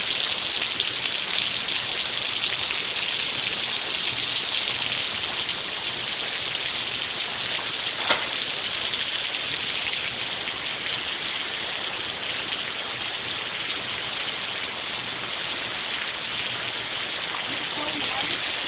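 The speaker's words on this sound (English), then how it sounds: "I love the rain." Steady, dense hiss of rain falling continuously during a storm in Chicago, with an even rushing texture throughout and no distinct drops standing out.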